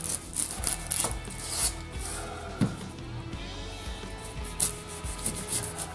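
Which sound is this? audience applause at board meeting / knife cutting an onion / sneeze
knife cutting an onion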